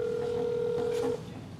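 A steady electronic ringing tone on a telephone line sounds for about a second, then cuts off, leaving a quieter background.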